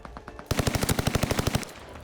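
Welgun submachine gun from Call of Duty: Vanguard rips off a rapid, steady burst of about twenty rounds, loud and close, after a brief quieter moment.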